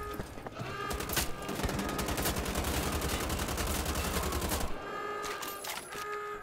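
Gunfire in a World War II shooter video game: dense, continuous rapid shots and bursts that fill several seconds, then thin out into a few separate cracks. The sound is loud and close, with no voices.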